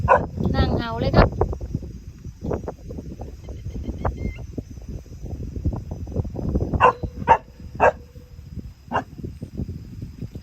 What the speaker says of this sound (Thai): นั่งเห่าเลยครับ